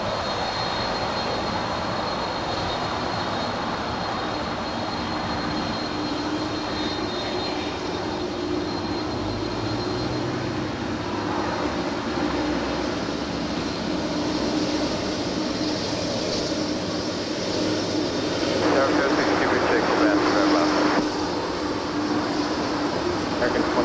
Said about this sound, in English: An MD-11, 30-year-old MD-11, heading over